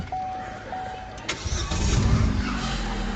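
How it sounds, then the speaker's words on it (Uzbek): A 2020 Chevrolet Cobalt with about 54,000 km is started: a brief starter crank catches into a close, low engine rumble that settles toward idle. "Hozirda men hozir zavod qilib ko'rsataman."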